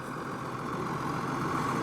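Cummins 5.9 diesel engine idling in a 2000 Newmar Kountry Star 3550 Class A motorhome, a steady, even rumble heard alone and close throughout the short stretch.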